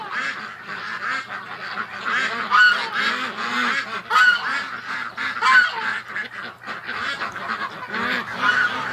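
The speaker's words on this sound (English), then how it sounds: "They're one pushy bunch of ducks." A pushy flock of ducks keeps up a constant, overlapping chorus of honks and quacks close by, loud and unbroken with no voices over it.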